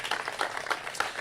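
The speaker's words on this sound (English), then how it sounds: "Let's give him a round of applause." Brief applause from a small crowd at an outdoor groundbreaking ceremony for a new Vietnam War memorial in Piedmont Park, with irregular claps rising and falling at moderate volume.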